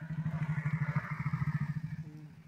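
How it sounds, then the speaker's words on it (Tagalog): Motorcycle on a steep mountain highway through forest, its engine putting out a steady pulsing low drone nearby for a couple of seconds, then fading as it moves away. "May dumaan na motor."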